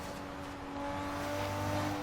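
A twin-turbo Subaru SVX engine in Forza Horizon 3 drones steadily with a low hum and a rising tone near the end, continuous and fairly loud, with no voices present.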